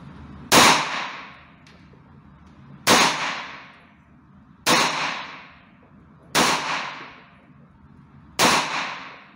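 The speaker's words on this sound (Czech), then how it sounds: "Střelbu jsem dokončil, zásobník je prázdný" Five sharp pistol shots, emptying the magazine, fire at steady intervals of roughly two seconds, each a loud crack with a ringing tail, and nobody speaks.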